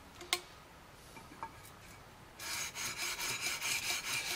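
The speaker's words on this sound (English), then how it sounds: "So I have the sandpaper on here. It's 400. Now I'm gonna continue." Sandpaper of 400 grit rubbing back and forth across the frets of a guitar neck being refretted with EVO fret wire. Faint ticks come first, then a run of rhythmic, close scratchy strokes.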